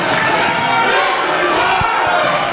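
Wrestling crowd at a live SWE Fury TV show event with a title on the line, a dense, continuous roar of cheering and shouting filling the arena throughout, with occasional thuds underneath.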